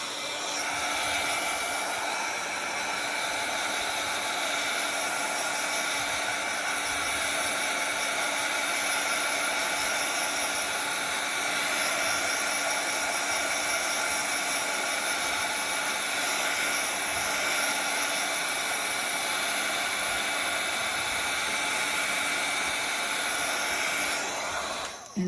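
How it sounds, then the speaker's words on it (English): A handheld heat tool blows hot air over wet paint on an artwork, a steady, even whooshing hiss with a constant whine that runs unbroken and close for about twenty-five seconds, with no talk. "Take my heating tool."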